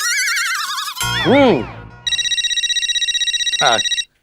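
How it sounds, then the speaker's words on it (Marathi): A telephone rings in a repeating electronic trill, loud and close, after a burst of other tones and a springy boing near the start. "माधवी का फोन।"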